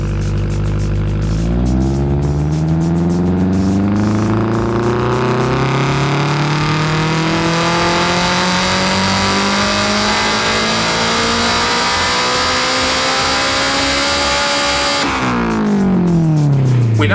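Car engine on a dyno, tuned for balanced per-cylinder air-fuel ratios, revs in one long steady pull, pitch climbing loud and close for about thirteen seconds before dropping back to idle.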